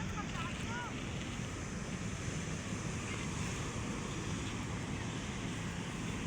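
Waves washing along the Manila Bay seaside under an overcast afternoon sky, heard as a steady, broad wash of surf and wind with no clear breaks.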